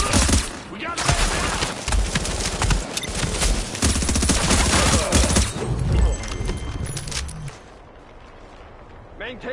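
Rapid automatic gunfire from a shooter video game, The Division on PS4, rattles loud and close in sustained bursts, with voices talking over the din.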